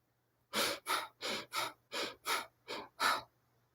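Deep breathing during a guided meditation: eight slow, even breaths drawn in steady rhythm, close and fairly loud, alone with no talk over them.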